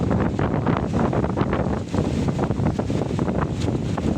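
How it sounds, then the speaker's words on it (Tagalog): Strong wind roars continuously across the microphone on a seashore near an abandoned resort, loud and gusty, with no voices. "Sobrang lakas pa rin po ng hangin"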